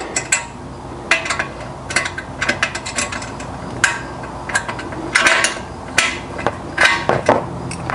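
Ratchet tool clicking as a nylock nut is loosened on the tailgate shelf hardware of a 2024 Ford Bronco, close metallic bursts of rapid pawl clicks repeating in short irregular runs with clanks between, no talking.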